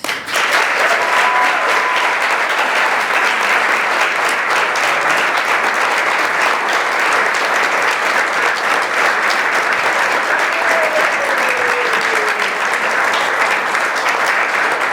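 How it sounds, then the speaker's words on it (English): Sustained applause from a college athletics banquet audience for a student speaker, steady and dense throughout with a few faint whistles and cheers rising above the clapping. "Let's give her another round of applause."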